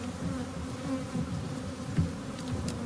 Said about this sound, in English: And then we are shaking those bees into these buckets.